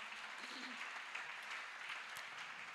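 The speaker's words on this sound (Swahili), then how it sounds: "Tumshangilie Bwana kwa makofi kwa watumishi wa Mungu" A church congregation claps for ministers of God during a Swahili service, a steady, fairly soft patter of many hands that fills the whole moment.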